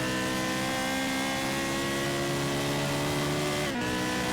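Helicopter overhead in Test Drive: Ferrari Racing Legends, a steady, loud droning hum with sustained tonal whine, heard continuously over the racing game's engine noise with a brief dip near the end.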